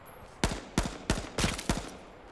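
Five loud, sharp gunshots from the video game H1Z1, fired one at a time at a fairly steady pace of about one every third of a second, each ringing out and decaying briefly, with no talking over them.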